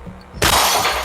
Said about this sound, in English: Now we are doing like training, shooting the bottles.